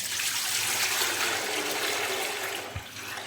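Water rushes steadily in a continuous broad hiss as 4 liters are poured from a tap into a cooking pot, with no voices.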